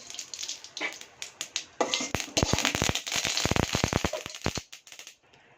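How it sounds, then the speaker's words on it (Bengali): Mustard seeds spluttering and popping in hot oil in a home kitchen pan, a dense run of sharp crackling pops that builds to a rapid burst in the middle and then thins out toward the end. "দেখো সর্ষে চামচ দেওয়া হচ্ছে"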